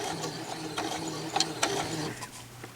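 A sewing machine straight-stitches felt with a continuous, fairly quiet mechanical hum and rhythmic ticking, broken by a few sharper clicks.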